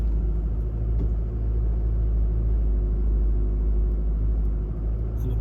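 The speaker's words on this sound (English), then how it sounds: "Just changed down to 4 low first gear because it's quite a steep hill" Deep, steady engine rumble of a 4x4 crawling up a steep, pothole-strewn bush track in low-range first gear, heard close and continuous with no talk.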